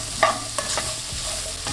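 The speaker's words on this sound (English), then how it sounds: "Give that a mix." Shepherd's pie vegetables, seasoned with salt, black pepper and parsley, stirred in a hot pan: a few sharp utensil scrapes and clinks over a continuous close sizzle, with no voices.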